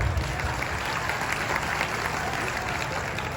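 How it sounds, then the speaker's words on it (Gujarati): Steady applause from a crowd, dense and continuous throughout with no pauses, clapping filling the whole stretch at an even level. "એકવાર જોરદાર તાળીઓ આપણા દીકરાઓ છે"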